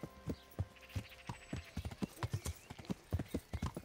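A horse ridden across a bridge in Kingdom Come: Deliverance, its hooves clip-clopping in a steady, close rhythm of sharp knocks with a faint low hum beneath.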